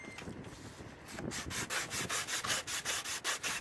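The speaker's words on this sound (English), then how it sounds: "The old glue's on there, so we're going to sand it off using some emery cloth." Emery cloth scrubbing old glue off a fiberglass boom arm, a close, steady rasping that settles into a fast regular back-and-forth rhythm of even strokes.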